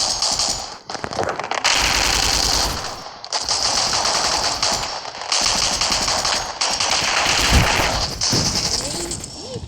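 Heavy shotgun fire in a video game comes in loud, booming bursts separated by brief pauses, with some voices talking between the shots.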